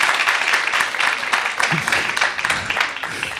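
An audience at a panel discussion applauds steadily for several seconds, a dense wash of clapping from many hands in a hall with no speech over it.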